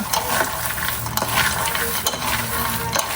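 Peanuts and garlic frying in hot oil produce a dense, loud, continuous sizzle with crackles and occasional stirring scrapes, close up throughout.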